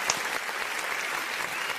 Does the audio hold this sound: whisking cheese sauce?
no